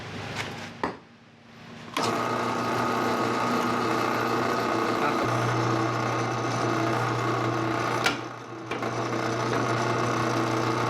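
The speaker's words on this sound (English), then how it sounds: "I'm gonna drill 2 holes on there for that." After a few clicks, a drill whirs continuously for several seconds boring holes in a metal caster bracket, its pitch shifting lower partway through, with a sharp knock near the end.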